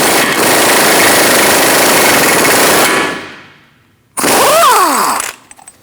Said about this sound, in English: I'm going to remove this axle nut.